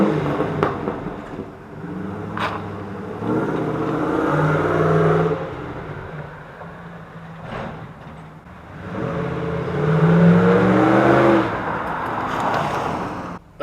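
Loud revving from a 1994 Dodge Dakota fitted with a Borla muffler, echoing inside a tunnel in two long swells that rise and fall.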